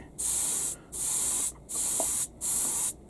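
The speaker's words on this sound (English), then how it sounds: "So I'm spraying the gloss here at 25 psi" Airbrush spraying gloss varnish at 25 psi onto a miniature, heard as four bursts of close, steady high hiss separated by short pauses.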